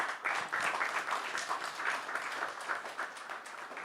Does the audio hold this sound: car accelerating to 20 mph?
no